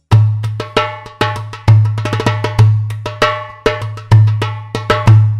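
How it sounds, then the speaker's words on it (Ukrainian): A Turkish metal darbuka is struck in a lively pattern, deep resonant thumps mixed with sharp ringing metallic slaps, close and loud. "Ось як звучить турецька дарбука."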